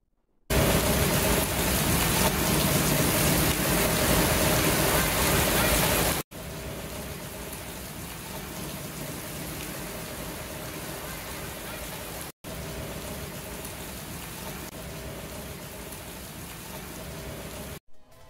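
Steady rain from a summer thunderstorm in late August hisses continuously across three consecutive takes, one louder and closer than the others, with no voices and no distinct thunder claps.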